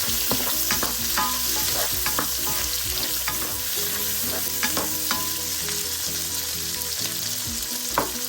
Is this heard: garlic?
yes